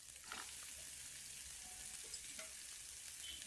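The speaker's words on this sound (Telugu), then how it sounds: "ఉల్లిపాయలు కలర్ మారే వరకు వీటిని బాగా ఫ్రై చేసుకోవాలి." Onions, dried red chillies and salt fry quietly in a pan, a soft continuous hiss and crackle with a couple of faint stirring clicks, close and low in level.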